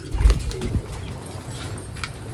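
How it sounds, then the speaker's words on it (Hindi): Pigeons' low throaty cooing, one short burst near the start, close by, followed by quiet background. "सोनी कबूतरी के बेबी चेक कर लेना"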